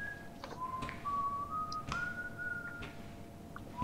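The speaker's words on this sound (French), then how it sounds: "Bonjour monsieur qui sifflote." A man whistles a tune in the video game Resident Evil 6, a sustained wavering melody of long notes that slides between pitches over a low ambient background hum.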